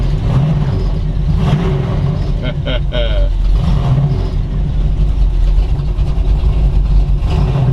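The 502 big block V8 in a 1937 Ford two-door slantback street rod idles at about 1200 RPM, a steady loud rumble running under someone talking nearby.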